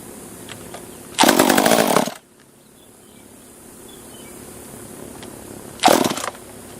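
A top handle chainsaw is pulled to start, two short, loud bursts of engine sputter nearly a second long each, separated by quiet outdoor background with faint insect chirping.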